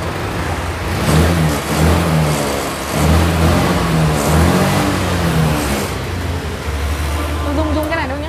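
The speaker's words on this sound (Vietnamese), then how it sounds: "Để em chiếc này em mở máy coi." A small motor scooter engine starts up and idles with a rough, uneven putter, rising and falling, while someone talks over it.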